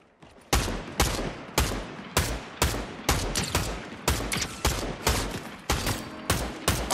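Gunfire in Fortnite: about a dozen evenly spaced sharp shots, loud and close, each decaying briefly before the next, with no talk.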